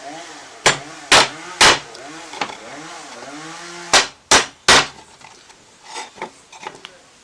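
A hammer drives a nail into a wooden board for a beginner's money storage box. Two groups of three sharp, loud knocks sound over a low steady hum.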